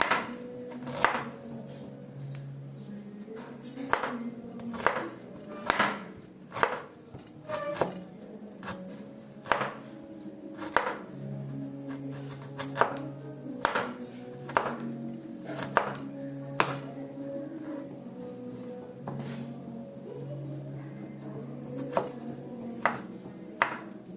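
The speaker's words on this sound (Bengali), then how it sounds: "রসুনটাকে এইভাবে কাটবো আর এই যে আদা আছে আদাটাকে ওইভাবে সরু সরু করে একদম কেটে নেবো" A knife chops garlic and ginger into thin strips on a board in sharp, irregular taps, some bunched and some spaced out, close by, while devotional Kali Puja music plays faintly behind.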